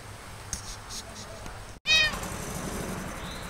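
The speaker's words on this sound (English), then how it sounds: "Damn cat." A cat gives a single loud, close meow just after a brief silence, then steady background noise returns.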